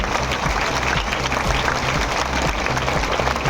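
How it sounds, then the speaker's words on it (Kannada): Loud, dense applause from a crowd of children at a new school's inauguration in Masti village, Malur, sustained and close throughout without pause. "ಒಂದ್ಸತಿ ಜೋರಾಗಿ ಚಪ್ಪಾಳೆ ಹೊಡೀರಿ"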